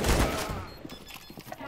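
Video game gunfire in GTA 5 or CS:GO: a heavy burst of shots opens, followed by scattered lighter thumps and reports at mid distance.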